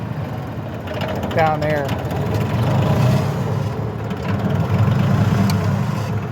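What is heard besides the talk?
Cub Cadet mower's Yanmar diesel engine idling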